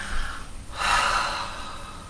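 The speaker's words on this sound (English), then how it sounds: "bring the arms along the shoulder line and work with that hard breath as you come over" A hard, forceful yoga breath during a flowing arm movement: a faint inhale, then a loud, rushing exhale lasting over a second, close to the mic and alone.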